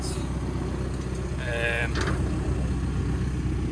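A boat engine idles steadily in the background, a constant low rumble running throughout while someone speaks over it and a brief tonal whine rises midway.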